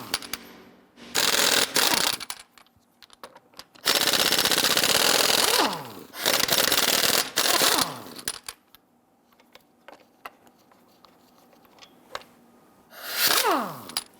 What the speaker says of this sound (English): Using a 22mm socket, loosen and remove the lug nuts.